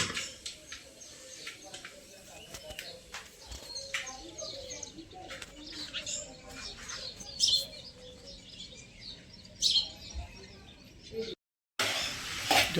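Sparrows and mynas chirp in scattered bursts at moderate distance, some calls sharp and loud, over quiet background voices.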